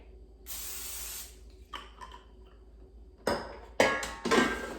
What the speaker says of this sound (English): let's take out the air fryer basket and spray it with a non-stick cooking spray